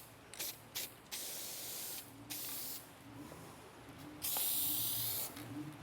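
Spray adhesive hissing from a can in several short bursts and one longer sustained blast, laid around the border of headliner fabric on a protected table, close and fairly loud with brief pauses between passes.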